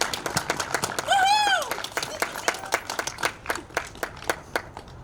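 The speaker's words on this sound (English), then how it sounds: "another round of applause for Mr." Audience applause following an announcement, scattered claps rising and fading at moderate distance, with a brief whistle or cheer early on.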